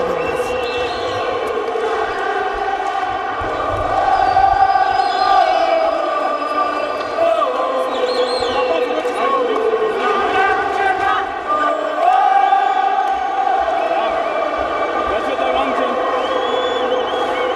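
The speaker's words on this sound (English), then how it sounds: "Crowd are absolutely loving this." A crowd roars and chants at a WBF heavyweight boxing title fight in Harare, Zimbabwe, a loud, echoing mass of voices with rising swells around the middle and a commentator talking over it.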